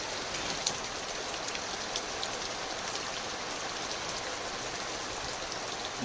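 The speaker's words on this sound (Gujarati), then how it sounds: "જો વરસાદ તો હજી પડેલો ફૂલ" Heavy rain pours down steadily, a dense, even hiss of drops with a few brighter splashes standing out now and then.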